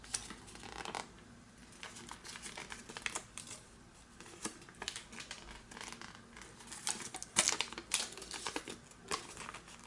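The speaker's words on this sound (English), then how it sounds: "You're gonna do the same on the bottom, folding so that this edge will meet this edge." Paper is folded by hand for an origami French flag, with soft crinkles, creases and rustling scrapes that come close and quiet at an uneven pace. No one speaks.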